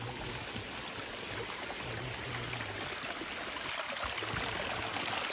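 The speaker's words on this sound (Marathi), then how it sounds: "पाणी वाहते जायचं ते झरा आहे पाण्याचा." A natural spring flows steadily near a temple at Lonar lake, a constant broadband rush of running water heard close and alone.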